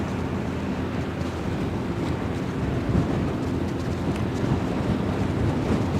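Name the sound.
wind at the Westerschelde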